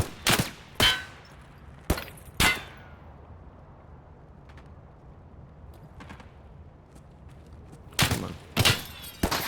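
Enemy gunfire in Escape From Tarkov: a few sharp, loud single shots open the stretch, then a quieter lull with faint distant pops, and a cluster of close reports near the end; a brief voice is heard once.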